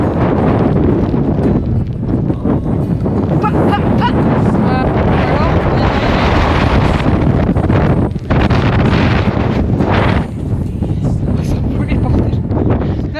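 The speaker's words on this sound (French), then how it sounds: "il y a un vent qui nous pousse de ouf" Strong wind gusts roar across a mountain ridge, buffeting the microphone with a loud, continuous rumble that barely lets up, while people talk over it.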